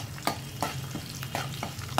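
Dry red chillies, urad dal, mustard seeds and crushed garlic crackle in hot oil for a pickle tempering, with a continuous soft sizzle broken by regular sharp clicks of a spoon stirring the pan.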